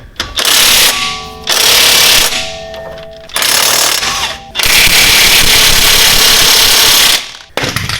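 A 19mm impact wrench with socket hammers loudly at crusty lower suspension bolts on a widebody FRS during a coilover install, firing in four bursts of rattling blows with short pauses between them, the last burst the longest.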